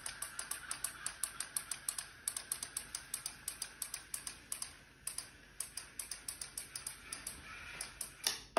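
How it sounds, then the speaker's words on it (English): Relay modules controlling the motor of a PLC-controlled mobile robot, clicking sharply in a rapid, fairly regular series of dozens of distinct snaps, close and alone over a faint background hum. "You wonder what all the clicking noises are. That's the relay modules that control the motor."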